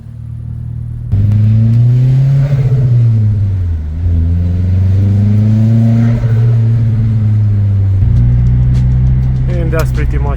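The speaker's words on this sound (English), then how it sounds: "I'm gonna listen to more turbo flutter" An Opel Bertone turbo car engine pulls hard and loud through several gears, its drone rising and dropping with each shift, with a brief turbo flutter at the end.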